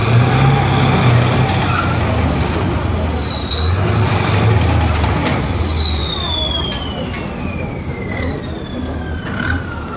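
A Panhard EBR armoured car with a 300-horsepower engine runs close by, producing a loud, steady rumbling roar with a high whine that slides in pitch throughout.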